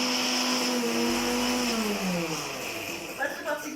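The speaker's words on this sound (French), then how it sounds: "Si vous avez un mixeur comme le mien" An electric blender crushing Kinder Bueno bars for a cheesecake runs loud and continuous, its motor whine slowly dropping in pitch under the load before a brief rise, with a voice faintly underneath.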